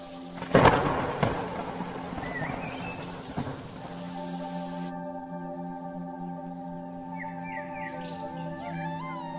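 Cartoon thunderstorm effect: a loud thunder crack with rumbling at the start, a second rumble, and steady heavy rain continuing throughout.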